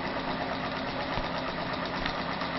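An engine runs steadily at a low idle around 500 RPM, giving an even, continuous mechanical drone close by with a couple of faint knocks, and no talk.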